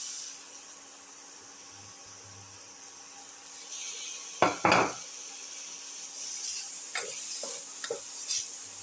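Tomato pieces sizzle quietly in a hot pan, with a low steady hiss that is broken about halfway through by a few sharp scraping stirs and then lighter clinks and rubs.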